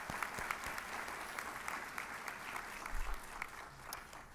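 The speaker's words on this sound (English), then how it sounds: "Please give those administrators a round of applause and appreciation for their work." An audience at a practical nurse pinning ceremony claps steadily for administrators, a continuous round of applause with a few sharper individual claps.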